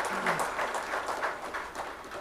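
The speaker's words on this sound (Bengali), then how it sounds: "আমরা করতালির মাধ্যমে তাদেরকে স্বাগত জানাই" A seminar audience claps to welcome guests, a steady, moderately distant ripple of applause with no talk over it.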